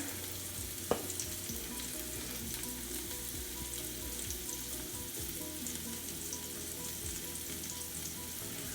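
Aromatics sauté in a pan for Jamaican curry bammy, a dense, even frying sizzle that runs steadily throughout with one brief sharp clink near the start and no talking.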